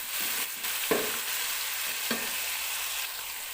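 Chicken fries in a pot for palao, a soft steady sizzle with a few scraping stirs and light knocks, close and moderately quiet, with no voices.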